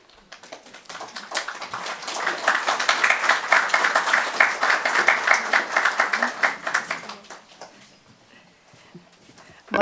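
Sustained audience applause and clapping from a crowd, building over about seven seconds and then tapering off to quiet, with no talk over it.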